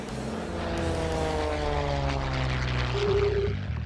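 Propeller airplanes fly overhead at an air show, with a steady droning engine roar and a rising, shifting pitch as they pass, loud and continuous without talk.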